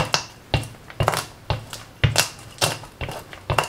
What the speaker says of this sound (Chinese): 用瓶子把花生米碾碎。